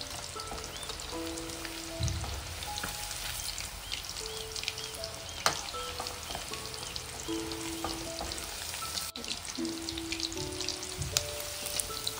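Chicken pieces coated with pepper powder frying in a pan, a continuous dense crackling sizzle with occasional stirring scrapes and a few short tonal clinks.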